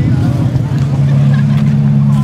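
A Honda VTEC engine at a Racedays.dk race in Hvidovre drones steadily and loudly close by, a constant low mechanical hum with voices mixed in.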